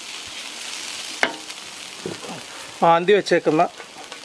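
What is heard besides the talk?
beef frying with roasted spices in a pan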